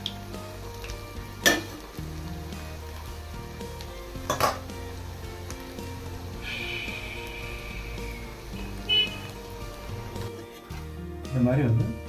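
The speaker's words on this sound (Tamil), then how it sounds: "இந்த மாதிரி பொரிச்சுக்கணும்" Baby corn frying in hot oil for baby corn manchurian: a steady low sizzle and bubbling close by, with occasional clinks of a utensil against the pan and a voice talking over it.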